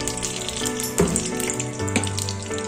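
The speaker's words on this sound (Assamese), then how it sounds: "আমি ইয়াতে অকণমান মিঠাতেল দিম।" Mustard oil is poured into a hot wok and crackles into a close, steady frying hiss with a couple of sharper spits, over a low tonal background hum.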